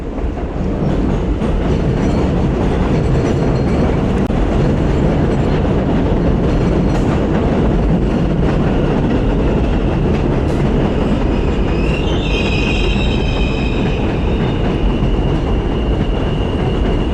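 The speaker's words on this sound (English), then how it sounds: "Sounds like the train just pulled in up there." An elevated subway train rolls into a station above a Brooklyn street, a loud steady rumble of wheels and cars with a rising metallic squeal of brakes near the end.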